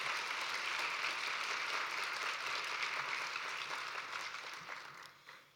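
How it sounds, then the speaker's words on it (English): Audience applause at an academic literacy research conference awards session, a dense steady wash of clapping from a large hall that holds for several seconds and then thins out toward the end. "Please give them a round of applause"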